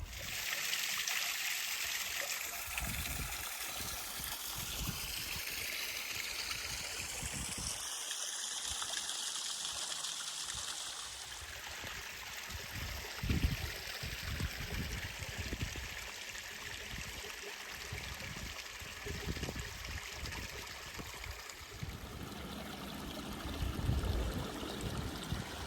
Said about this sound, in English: Pretty nice waterfall.